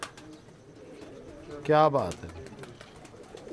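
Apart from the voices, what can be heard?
pigeons cooing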